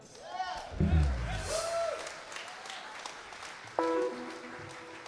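A jazz festival crowd at Jazz in Duketown applauds a special guest, a trumpeter. Moderate, fairly distant clapping continues steadily beneath scattered voices and a few musical tones.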